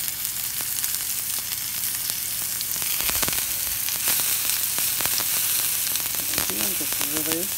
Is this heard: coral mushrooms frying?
yes